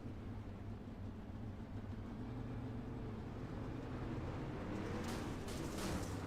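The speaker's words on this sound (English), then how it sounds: "Let's listen to Bob's car." Bob's race car at a summer-season opening-night short-track race, engine droning steadily in a low rumble at a restart, with a sharper burst of revving near the end.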